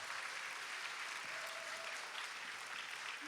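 A concert-hall crowd at a 25th-anniversary talk concert applauds to welcome the host, a steady wash of dense clapping that continues without a break.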